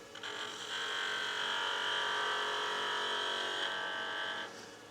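On a wood lathe, a skew chisel planes down a wood blank turning on a mandrel, giving a steady, close, high-pitched whine for about four seconds with no speech.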